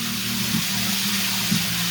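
Hot water from an air source heat pump system runs in a steady, hissing rush with a low constant hum underneath, heard up close and without voices.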